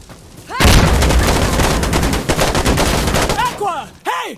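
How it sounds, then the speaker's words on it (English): In Insurgency Sandstorm, a frag grenade blast and rapid gunfire erupt after a brief lull, a loud sustained burst of crackling automatic shots and a heavy boom, trailing into scattered shots and a shouted voice near the end. "Throwing frag!"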